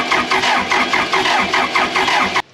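A Case 450B dozer abandoned for 15 years cranks on its starter, a loud rhythmic churning of repeated compression pulses for about two seconds before cutting off abruptly without catching.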